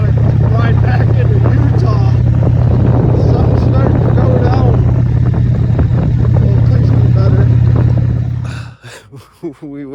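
A Harley-Davidson Sportster motorcycle riding on an open road, its engine a loud, steady close rumble with wind noise that cuts off abruptly near the end.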